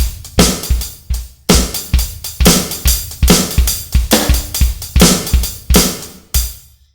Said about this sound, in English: It doesn't matter if you can play snare drum, hi-hat, and bass drum if it sounds like this.